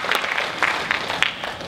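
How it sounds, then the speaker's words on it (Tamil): A brief burst of audience clapping at a film trailer launch event, a moderately loud scatter of hands rather than a roaring ovation. "அதுக்கு முதல்ல நம்முடைய பலத்த கரகோஷத்தை உஸ்மான் ஃபேமிலிக்கு நம்ம தெரியப்படுத்துவோம்"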